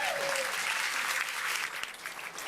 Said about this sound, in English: let's stand up and applaud for Melinda